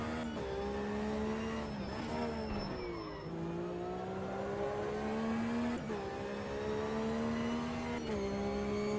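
Porsche Carrera Cup race car in the racing game Automobilista 2, a muffled, not-too-high engine revving through repeated gear shifts, rising then dropping in pitch several times.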